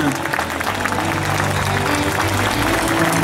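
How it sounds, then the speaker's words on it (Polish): Crowd at a Catholic mission gathering in Poznań clapping for Jesus, a loud, dense wash of applause with hum and music-like tones underneath, sustained evenly across the whole stretch. "a dar uma grande salva de palmas para Jesus"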